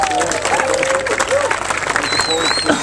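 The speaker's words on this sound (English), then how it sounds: "Let's give a round of applause for the association and the two teams" Applause and crowd noise at the 2015 World Bunnock Championship final, steady clapping throughout, with voices talking over it and some whistle-like tones near the end.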